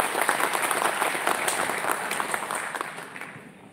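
Audience members at a public meeting clap together in a dense burst of applause that starts strong and gradually thins and fades over a few seconds.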